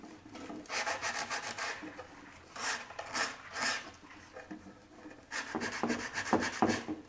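Hand sanding a wooden harvest box with the sandpaper pulled tight, a rhythmic rasping rub in uneven strokes, close and fairly quiet.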